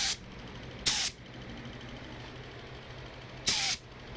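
A Harbor Freight HVLP spray gun applies Rustoleum paint in three short, sharp hissing bursts over a low background hum, the second and third spaced a few seconds apart.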